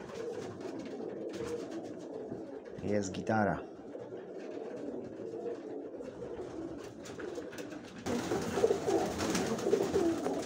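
Soft coos of pigeons at their loft murmur in the background while a person speaks briefly in Polish, with a burst of louder ambient noise near the end.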